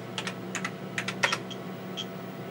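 Typing on a computer keyboard during diagnostics of a TRS-80 Model 16B, a handful of quick irregular key clicks over about two and a half seconds, close and fairly quiet against a faint hum.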